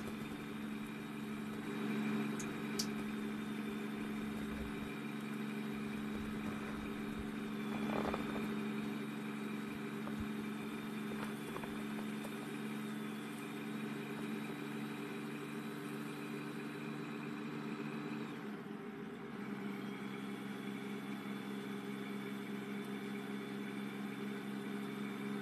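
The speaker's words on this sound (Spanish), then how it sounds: "Es que un tractor de orugas." A crawler tractor engine idles in God of War Ragnarök, a steady droning hum with fixed tones holding for the full length, briefly dipping and shifting pitch near the end.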